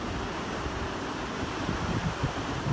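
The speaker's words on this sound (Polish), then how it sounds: "jak słychać wiatr wieje z niesamowitą siłą" Steady, broad roar of strong wind buffeting the microphone at the top of a ski jump in Pyeongchang, constant and loud throughout with low rumbling gusts and no voices.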